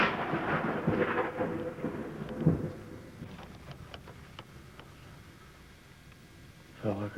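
Thunder from a lightning storm rolls and rumbles in low bursts, strongest early on and then fading into sporadic crackles, with a fresh rumble near the end under faint voices.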